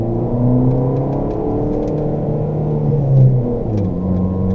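A car rolls into a parking lot at a Ferrari dealership in Palm Beach, its engine a steady low rumble and whir close by with a slight swell near the end, no talking.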